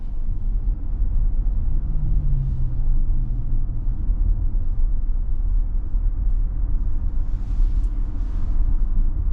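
A 2024 Kia EV9 Wind all-wheel-drive electric SUV cruises along, giving a steady low road rumble and tire noise that holds evenly throughout with no engine note and no talking.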